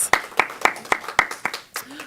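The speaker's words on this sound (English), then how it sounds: "Let's give her a round of applause." An audience gives a round of applause for a music director: about eight sharp, evenly spaced claps, close and fairly loud, fading out at the end.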